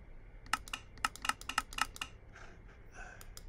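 A computer mouse clicks during a game of Minecraft, about a dozen quick, sharp taps in an irregular burst near the microphone, then a faint shuffle, with no talking.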